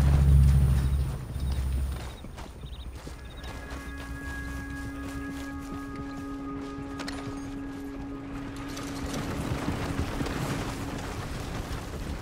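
Horse hooves clip-clopping in a video game, a steady run of hoof beats under a droning in-game backdrop, moderately loud without voices.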